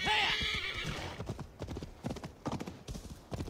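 A horse in Assassin's Creed Valhalla whinnies loudly, then its hooves clip-clop in a quick galloping rhythm, close and clear.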